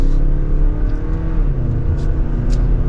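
A 2024 Lexus RX 350 F Sport pulls out into traffic under mild acceleration, a steady low engine and road hum heard from inside the cabin.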